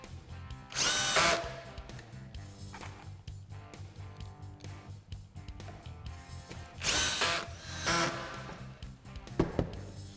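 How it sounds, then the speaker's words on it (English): Cordless drill driving pocket hole screws into a wooden face frame, with two loud bursts of high whining drive a few seconds apart and quieter handling noise between them. "all you have to do is drive home the pocket hole screws"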